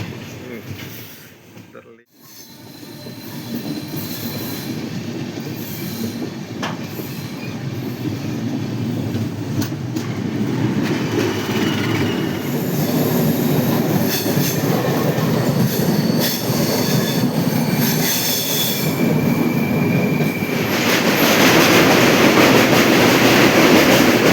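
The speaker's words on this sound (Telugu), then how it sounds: "ఇప్పుడే గోదావరి బ్రిడ్జ్ పైకి అయితే వెళ్తున్నాం మనం చాలా స్లోగా వెళ్తుంది ట్రైన్" A train crosses the Godavari bridge slowly and steadily at night, wheels rumbling with a low hum and occasional squeals and clatter, growing slightly louder over time.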